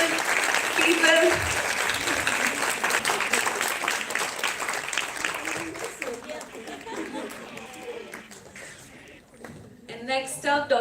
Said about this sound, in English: Huge round of applause to Dr. Baljeet Kaur